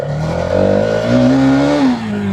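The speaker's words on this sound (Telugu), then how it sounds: "సో బైక్ అయితే లిటరల్గా రోర్ అవుతుందన్నమాట" Hero Xtreme 250R motorcycle pulling away and revving hard, a loud close engine roar climbing through gears with a rising and falling pitch, no talk.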